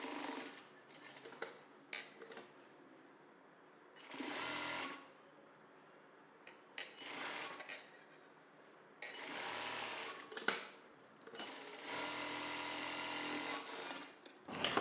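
A sewing machine stitches folded blouse fabric in repeated bursts of rapid whirring, some short and some lasting a couple of seconds, separated by near-silent pauses and faint handling noises.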